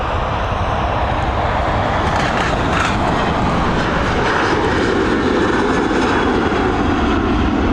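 A jet airliner takes off from runway 28R at Dublin Airport, a steady, loud engine roar sustained throughout with a broad rumbling hiss and no talk.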